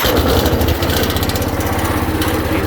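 Engine of a 1979 Case 224 hydrostatic riding lawnmower running at a steady idle with a rapid, even putter, loud and close with no deck fitted, alone without talk.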